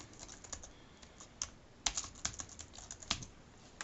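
A password is typed on a computer keyboard in a quiet room, with soft, close key taps in an uneven quick run and a few firmer presses.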